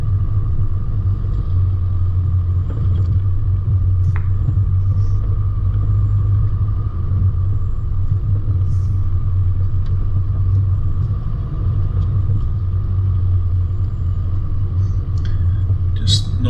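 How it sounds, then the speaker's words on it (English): A car engine drones in a low, steady rumble as it crawls over eroded steps on a night off-road run along German Point Road in the Watagans, with occasional knocks and scrapes from the terrain. "the car will do the work and climb up over those sort of obstacles pretty readily"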